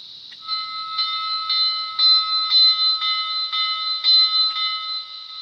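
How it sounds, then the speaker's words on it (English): A bright electronic bell from the sound decoder of a Mantua 2-6-6-2T logger model locomotive clangs in a steady repeated rhythm, about two strikes per second, ringing clearly and alone for several seconds. "So we'll do the bell."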